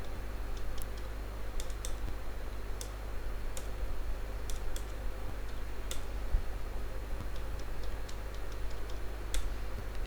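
Computer keyboard typing during accounting data entry, a steady run of sharp key clicks scattered across ten seconds over a constant low hum, fairly close with no talking.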